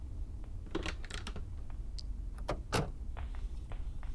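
A door closes in the horror video game Granny, heard as a few sharp clicks and thuds over a low steady background hum.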